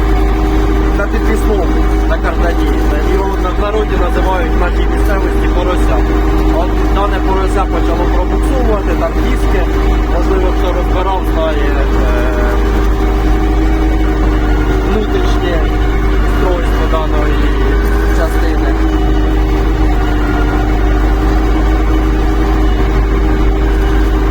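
A YuMZ tractor engine chugs steadily at a low, constant drone throughout while ploughing, close and loud, while a person talks over it.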